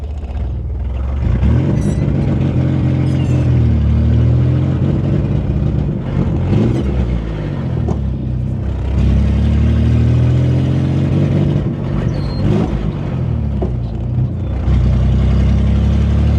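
A Chevrolet Corvair with a sticking clutch drives along, its engine droning steadily at close range with a few gear changes and rises in revs, no talk over it.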